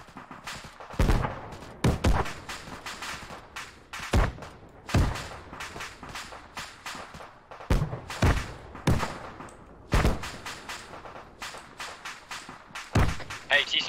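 Gunfire aimed at a BTR armored vehicle and a tank in the ArmA III military shooter, repeated sharp loud shots in irregular bursts amid battle noise, with voices talking over it.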